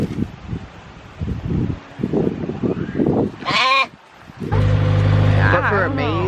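Goat on a farm bleating in a wavering, quavering call heard close by, mixed with rustling, wind and a passing car, while people talk around it.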